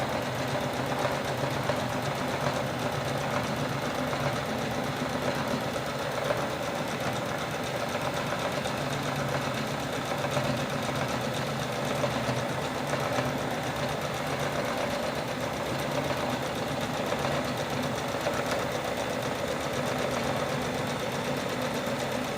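A sewing machine runs steadily while stitching a folded bag, its motor hum and rapid needle rattle continuous and close throughout, with no pauses or talking.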